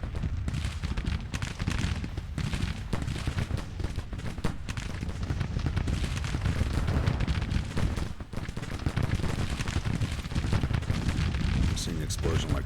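Artillery fire and explosions roll through a battle in Grand Tactician: The Civil War, dense and continuous with repeated booming bursts under a steady din of gunfire.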